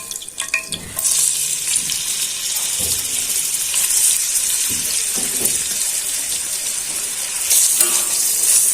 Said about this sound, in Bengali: এদিকে পেঁয়াজটা ভাজা হয়ে যাক